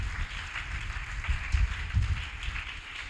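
Congregation clapping at a live fasting prayer service, a steady muffled patter of many hands sustained throughout, heard somewhat distant.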